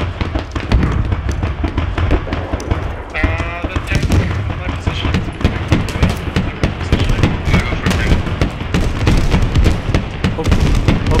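A frag grenade explosion in the Squad military shooter game, set in a firefight among dense rapid gunfire bursts and booms that continue throughout, loud and close.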